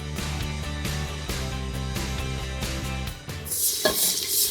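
Music plays for the first few seconds, then a sudden loud, bright sizzle bursts out as hot tempering is poured into a pot of mixed dal khichdi and stirred.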